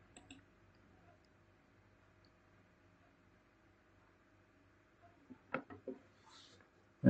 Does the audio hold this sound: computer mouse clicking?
yes